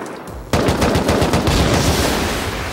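Sustained automatic gunfire in the survival game Rust, a loud rapid burst of shots that starts abruptly after a quiet moment and keeps rattling close by without pause.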